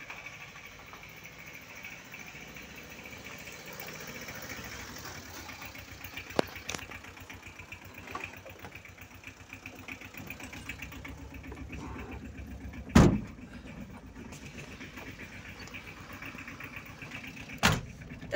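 A road vehicle's engine idles at a low, steady rumble throughout, with two sharp clunks standing out briefly against the hum.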